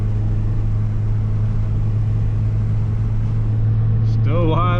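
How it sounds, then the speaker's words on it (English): A 2002 Toyota Corolla 1.8L engine with a lean fault, held at wide open throttle, gives a loud, steady droning roar. A rising, wavering whine enters near the end. "Wide open throttle."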